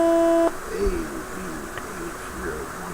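A vital signs patient monitor sounds a high alarm: a loud, steady electronic beep tone for about half a second, then a quieter room with faint voices.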